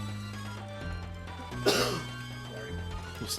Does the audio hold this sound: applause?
no